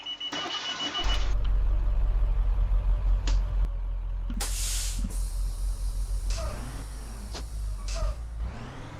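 Bus engine from a simulated North Syracuse city bus in a bus simulator game, a steady low drone running throughout with occasional hisses and clicks over it.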